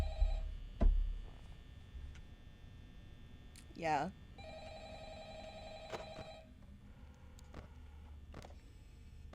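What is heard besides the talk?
telephone ringing in the video game Five Nights at Freddy's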